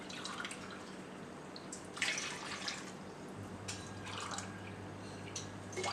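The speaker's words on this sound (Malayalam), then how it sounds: "അപ്പോൾ ഞാനിതിലേക്ക് ഒരു 3 ഗ്ലാസ് വെള്ളം ഒഴിക്കുന്നുണ്ട്." Three glasses of water poured one after another into a vessel while making a homemade mango frooti drink, giving faint, soft splashing and dripping with short louder bursts against a quiet background.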